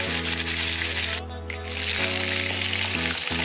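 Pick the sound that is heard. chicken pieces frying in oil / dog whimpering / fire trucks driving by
chicken pieces frying in oil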